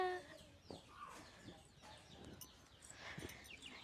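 Free-ranging chickens forage around a family home in the morning, giving soft, intermittent clucks and short calls at low volume.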